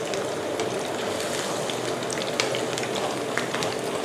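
Pork balls deep-frying in oil, a steady, dense bubbling sizzle with small crackling pops, close and continuous with no talk over it.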